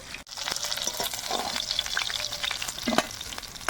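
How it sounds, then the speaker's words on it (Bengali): Rohu and puti fish frying in a pan, a continuous close sizzle with crackling pops and a few scraping stirs, no voices. "আর বাকি মাছগুলো ভেজে নেব"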